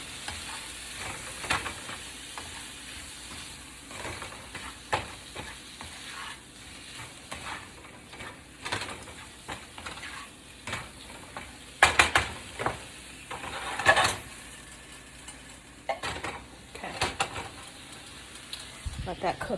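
Shrimp seasoned with Old Bay sizzle steadily in a frying pan while being stirred, with scraping utensil strokes and occasional louder clinks against the pan, nearby and continuous.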